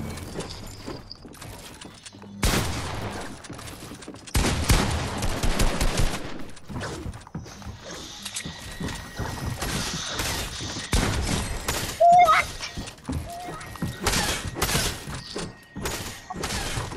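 Assault rifle fire in a Fortnite match: repeated sharp bursts and single shots scattered across the stretch, some loud and close, others lighter, with thuds and impact sounds between them.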